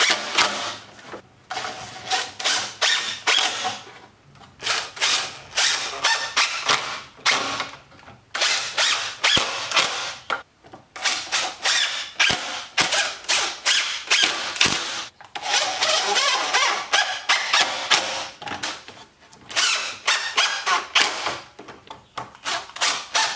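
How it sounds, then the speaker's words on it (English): Wood screws are driven into a rustic chicken coop window frame in a long series of short whirring, ratcheting bursts separated by brief pauses, close and fairly loud. "we're going to work our way around this thing and put all these screws in."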